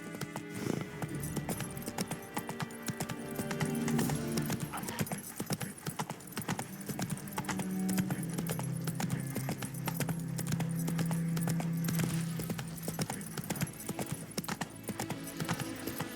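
Roach, Geralt's horse in the video game Witcher 3, trots in a steady clip-clop of hooves over a continuous background of game music and ambience, with no speech over it.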